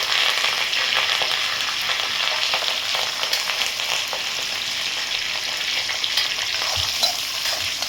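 Green chillies frying in hot oil in a pan, a loud, dense, continuous hiss and crackle that holds steady, with occasional soft clinks of stirring; no talking.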